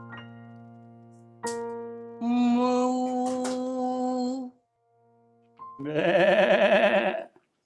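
A human voice imitates a sheep's bleat in two separate bursts, the first a long wavering tone and the second a shorter, harsher nasal bleat after a brief pause. Both are close and loud, with no other sound in the background.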